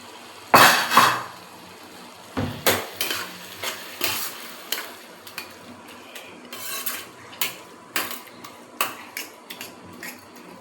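Prawns dropped into a home cooking pan and stirred with a utensil: a loud initial clatter, then a steady series of sharp metallic scrapes and taps against the pan at a regular rhythm, close and clear with a faint sizzle beneath.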